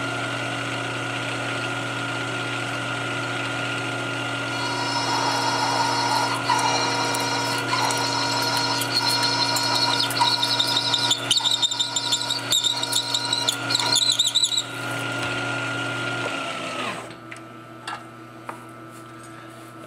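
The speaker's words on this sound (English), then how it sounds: "This is just a Silver and Demming style, high-speed steel, 118 degree point." Metal drilling with a Silver and Deming style high-speed steel bit with a 118-degree point: a machine hums steadily, then a shrill, wavering squeal rises as the bit cuts for about ten seconds before the spindle winds down.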